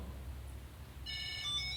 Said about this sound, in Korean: then my keys begin to ring